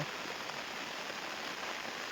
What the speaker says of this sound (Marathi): आता पाऊसही आला आलाय पण बारीक आहे